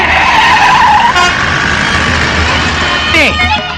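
A car braking and skidding in a Telugu comedy film scene, a loud close engine roar with a sharp tire squeal near the end and talk over it.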